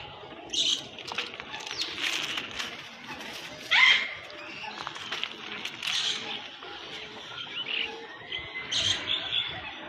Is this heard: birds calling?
yes